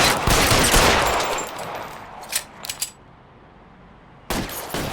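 Gunfire from the video game L.A. Noire: a loud, sustained burst of rapid shots at the start, a few sharper isolated cracks around the middle, then a short renewed burst near the end after a quiet gap.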